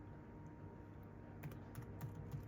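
A computer keyboard clicks through a short run of soft keystrokes as a command is typed, faint and steady over a low electronic hum.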